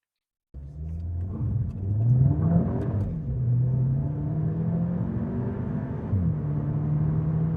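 A 2025 Skoda Octavia RS facelift engine hums steadily from close by, revving and shifting through gears as it drives along a mountain pass, with no talking.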